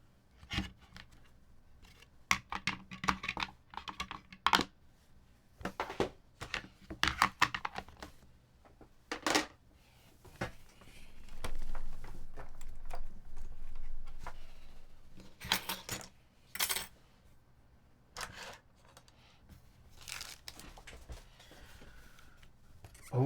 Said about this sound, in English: we'll mount these keycaps back on